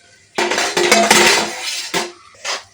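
String hoppers (idiyappam) are tossed and mixed into a masala in a pan, giving a few close bursts of scraping, rustling spatula and pan clatter with short pauses between them.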